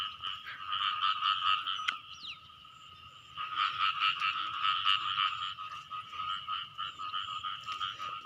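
Frogs croak in a sown rice field, a dense, continuous chorus of many rapid pulsing calls that dips briefly and then swells again, moderately near, with no talk over it.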